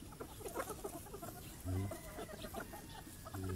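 A young rooster (stag) clucks in short, close bursts, with soft background noise.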